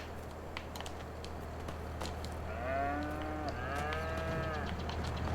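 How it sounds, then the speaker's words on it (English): Cow lowing in the Farming Simulator 22 farming video game, two or three drawn-out moos close by over a steady engine-like hum and light clicking. "Now Bessie is a happy cow, yep"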